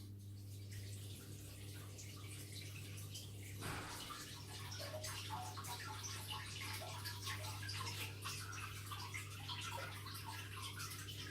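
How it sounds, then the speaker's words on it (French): Running water pours steadily into an axolotl aquarium, a continuous splashing and gurgling fill that grows a little busier partway through, over a constant low electrical hum. "je vais remplir d'eau"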